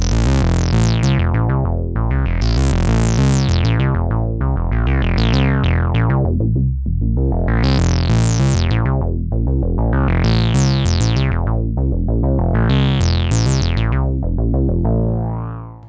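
A Moog Muse synthesizer arpeggio cycles through rising note runs, broken by brief gaps of silence between phrases, loud and steady with no voices.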